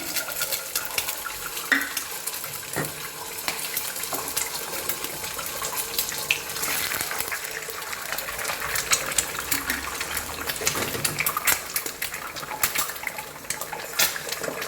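Six eggs go into a pan of fried rice with hot oil, giving a steady wash of bright sizzling broken by clinks and scraping stirs, close and continuous, with no talk.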